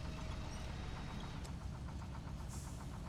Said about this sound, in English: There's a nice put of the engine.